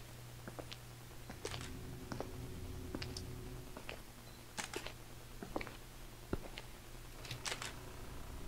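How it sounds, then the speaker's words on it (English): Camera shutter clicking in the horror game Dark Fracture, a series of sharp, irregular clicks, some in quick pairs, sounding fairly faint over a low steady hum. "Hearing a camera shutter clicking away"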